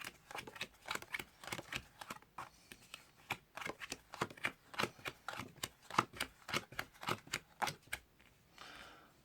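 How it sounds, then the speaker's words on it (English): A deck of playing cards is shuffled by hand in a quiet room, giving a run of crisp riffling and snapping bursts in an uneven rhythm, close and soft, fading out at the end. "So now they shuffle"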